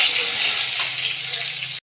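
Whole cumin seeds and dried red chillies crackle and sizzle in very hot oil, a dense, loud, continuous hiss with fine popping throughout.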